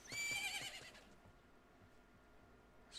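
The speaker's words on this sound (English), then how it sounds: "Epona's going to keep neighing." Epona the horse in the video game Majora's Mask gives one short, bright whinny at the start, faint and alone, with a brief hint of another at the end.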